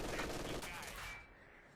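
An MG42 machine gun in the video game Company of Heroes 2 lets loose a dense, continuous burst of fire that fades out after about a second, with a faint voice beneath.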